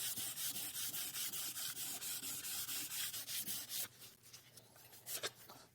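Sandpaper rubbing steadily over a distressed painted wood finish in quick rhythmic back-and-forth strokes, close and loud, slowing to a few scattered scrapes near the end.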